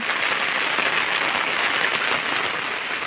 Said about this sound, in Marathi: आता पाऊस आहे